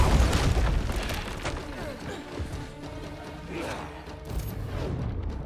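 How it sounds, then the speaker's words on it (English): Symbiote blast from Marvel's Spider-Man 2 video game: a loud booming burst with crashing debris up front, settling into rumbling game action and scattered impacts, then swelling again near the end. "Symbiote blast!"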